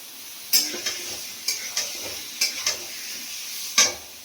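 Pieces of bottle gourd go into a hot pan with green chillies and are stirred, bringing a faint sizzle under a series of sharp metallic clinks from the spatula that come every second or so.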